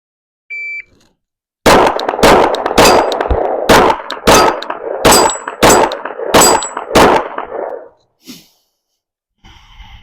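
Nine loud gunshots fire in quick succession, each striking steel targets with a ringing clang, followed by a faint breath and some quiet handling noise.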